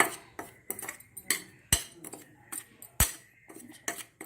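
A utensil scrapes and clinks against a metal dish while chili powder, salt, turmeric and masala are mixed for rabodi ki sabji, an irregular series of close, fairly quiet taps and scrapes.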